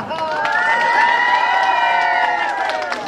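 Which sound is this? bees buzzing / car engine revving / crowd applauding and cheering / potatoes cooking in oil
crowd applauding and cheering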